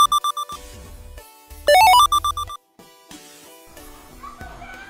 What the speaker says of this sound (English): someone is trying to talk to me, or my phone is.